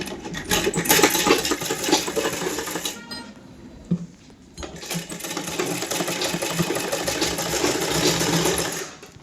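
Close sewing machine hums and rattles as it stitches the neckline strip of an A-line suit, running in a long fast burst, a brief stop with a click, then another steady run.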